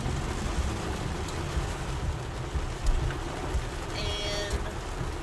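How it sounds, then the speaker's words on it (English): Heavy rain drums steadily on a car while driving, a dense continuous hiss and patter heard from inside the cabin with faint scattered sounds. "Look at the rain, man."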